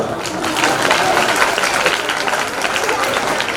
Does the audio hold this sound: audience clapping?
yes